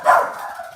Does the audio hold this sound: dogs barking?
yes